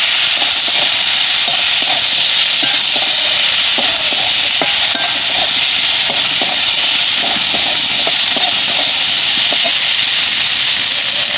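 Spices cooking with banana flower in a pan, turmeric, ground dried chilli and whole cumin added, give a steady broad sizzle and hiss with faint scattered clicks of stirring throughout, close and even in level.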